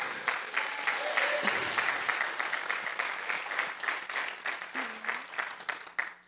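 Church congregation applauding and cheering the Lord, a sustained burst of dense clapping that slowly thins out, with voices and a brief vocal tone mixed in.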